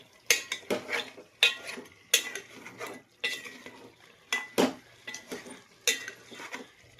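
Chopped pieces stirred in a cooking pot, with a spoon scraping and clinking against the metal in a string of distinct strokes, close and clear, with a light sizzle beneath and no talking.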